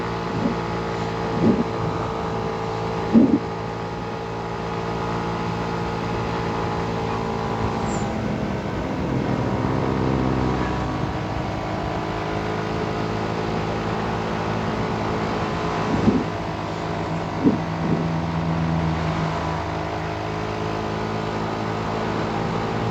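Motorbike engine drone while riding on a foggy, cold road between Subang and Bandung, a continuous steady hum with pitch shifts as gears change, and a few brief knocks along the way.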